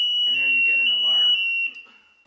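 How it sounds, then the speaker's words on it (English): A battery-powered level alarm sounds a steady, piercing high buzzer tone, loud and continuous, while someone talks over it before his voice drops away. "there's a bit of a delay, and there you get an alarm,"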